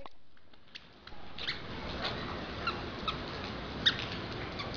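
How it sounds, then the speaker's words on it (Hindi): Faint rain patters steadily, with scattered drops tapping sharply against nearby surfaces. "बारिश हो रही है देखो, हुई कितनी बारिश हो रही है भाई"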